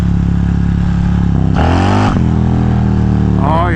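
Harley-Davidson Road Glide performance bagger with a new clutch accelerating hard in first gear, a loud, close engine surge that swells midway and spins the rear tire, then rises again at the end over steady idle rumble.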